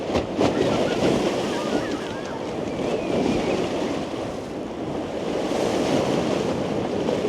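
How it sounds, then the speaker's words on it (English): Sea waves lapping and splashing at the Blackpool shore in February, a steady, fairly loud wash of surf mixed with wind buffeting the microphone, rising and falling gently throughout. "Just look at that sea, all lapping and splashing and sounding all really lovely."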